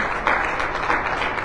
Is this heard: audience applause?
yes